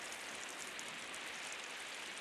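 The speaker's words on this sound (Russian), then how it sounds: "Держит чашку под каплями дождя" Steady, dense patter of rain drops falling, a continuous hiss-like shower with no voices, constant in loudness throughout.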